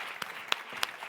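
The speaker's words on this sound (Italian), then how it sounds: "Quindi l'applauso" Audience applause at a Neapolitan talent show awards moment, a short stretch of steady, fairly soft clapping from a crowd with a few sharper individual claps standing out.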